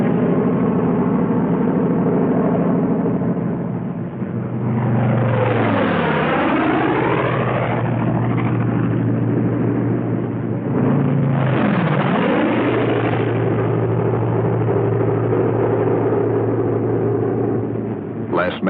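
Several P-47 Thunderbolt fighter planes flying in section, their propeller engines droning loudly and continuously, with two distinct swelling passes as individual aircraft roar by close, one after another.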